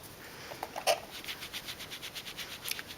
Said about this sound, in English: Wiping, cleaning off my stamp